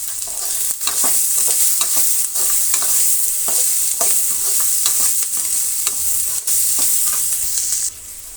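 Onions with salt, green chillies and curry leaves frying in hot oil for pumpkin sambar, a loud, constant sizzle punctuated by regular scraping stirs of a spatula, close up and with no talking.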